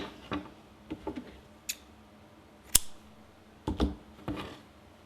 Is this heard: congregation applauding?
no